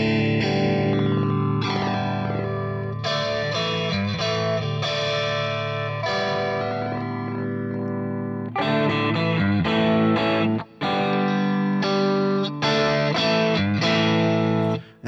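Electric guitar through a Boss IR-200 amp and cabinet simulator with the virtual mic position being adjusted, playing loud, continuous distorted chords and riffs with brief breaks.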